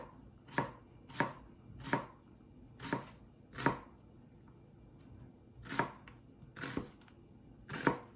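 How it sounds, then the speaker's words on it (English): A knife slices through an onion on a cutting board, each cut landing as a crisp chop in an irregular series of about eight cuts, close and distinct with quiet pauses between. "And I'm gonna just slice it like this."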